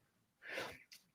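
A single short sneeze, fairly soft and close, with a small breathy catch right after.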